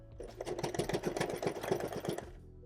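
A sewing machine stitching a ruffle tote bag runs in one short, fast burst of evenly spaced mechanical stitches, close by and fairly quiet, then stops.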